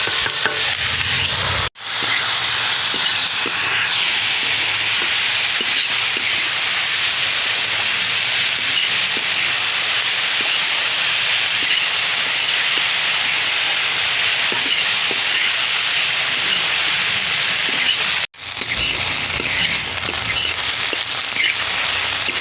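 Steady, loud sizzling hiss of banana stem and potato pieces, coated in salt, turmeric and sugar, frying in a pan, continuous throughout with two brief dropouts, no talking.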